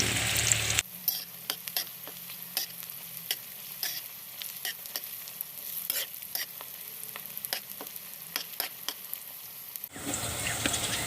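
Onions frying in a pan, a close continuous crackling sizzle with scattered sharp pops and stirring clicks throughout, a burst of louder noise at the start and end, and no talking.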